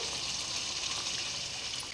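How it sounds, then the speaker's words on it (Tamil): Boiling water poured into a pot of sautéed onions and curd for ghee rice, a steady, continuous hissing pour at close range without pause, with no one talking. "நான் கொதிக்கிற தண்ணி போடுறேன்"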